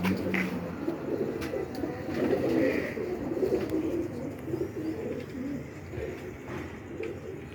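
A Ferozpuri breeder pigeon pair, male and female, coos softly in repeated low throaty phrases against a steady background hum, with a few faint chirps mixed in.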